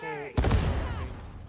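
A single loud shotgun blast in a video game erupts abruptly after a moment of tonal ambience, its booming report decaying over about a second.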